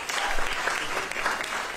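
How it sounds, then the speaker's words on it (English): Audience applause at a Halloween recital, a dense, steady burst of many hands clapping that fills the short clip at even loudness without a break. "Can we give them one more round of applause?"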